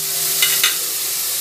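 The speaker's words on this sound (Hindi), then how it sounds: "लहसुन तकरीबन थोड़ा फ्राई हो गया है" Garlic frying in a pan for a desi-style chicken dish, a steady close hiss of oil with two brief louder spatters, with no talking.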